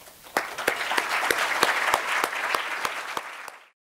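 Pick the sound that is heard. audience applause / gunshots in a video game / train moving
audience applause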